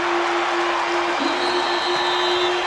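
A basketball arena crowd at an NBA game, San Antonio Spurs visiting the New Orleans Hornets, cheers and applauds after a steal. The roar is loud and dense and holds steady throughout, with a sustained tone running beneath it.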